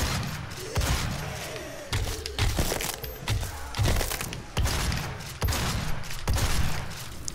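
Rapid bursts of gunfire from Doom (2016) repeat as loud, sharp, booming shots in a steady rhythm, close and dominant, with a brief quieter gap between volleys.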